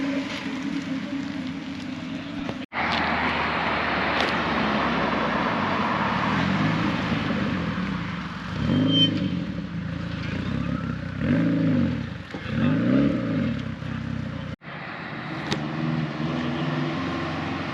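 Cars roll into a Japanese classics show, a red Toyota, a black Subaru and a Mazda MX-5 Miata among them, with steady engine drone and a few rising revs up close over outdoor noise, no one talking.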